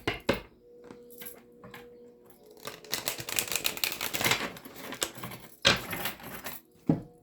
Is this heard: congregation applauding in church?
no